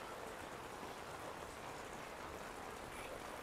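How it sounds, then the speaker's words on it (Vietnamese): Heavy rain pours down on the Bàn Cờ street market, a steady, even wash of dense rainfall that hisses without a break, heard from a distance at low volume. "Mưa rất là lớn luôn."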